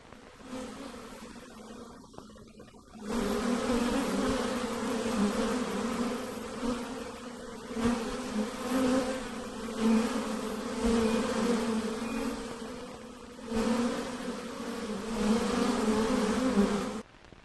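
Steady close insect buzzing from a bee, droning continuously for most of the span after a quiet opening, with slight swells in loudness.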